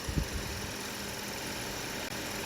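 A car engine with a badly stretched timing chain idles with a low, steady hum and faint vibration, constant in level for a couple of seconds after a short knock at the start.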